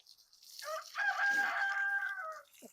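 A young rooster's first crow rises into a single wavering cock-a-doodle-doo, fairly close and clear in a quiet backyard, lasting about two seconds.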